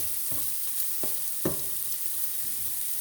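Pork sears in a pan over medium-high heat with a constant hiss of frying, punctuated by a few distinct scrapes or taps of a utensil against the pan.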